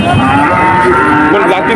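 A large dairy cow at a cattle market gives a loud, close, sustained moo that fills the whole moment without a break.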